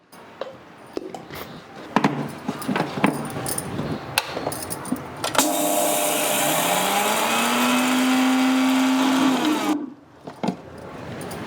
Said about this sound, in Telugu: మిక్సీ ఆడుకోవాలన్నమాట మెత్తగా ఆడేసుకోకండి బరక బరకగా ఆడుకోండి